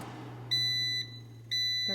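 Two high electronic beeps from an air fryer signaling it is done, each about half a second, over a low steady hum.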